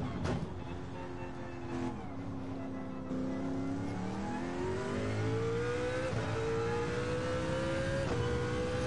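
A race car engine in Gran Turismo 7 revs up steadily in cockpit view, its pitch climbing smoothly through a gear with brief shift dips, loud and continuous.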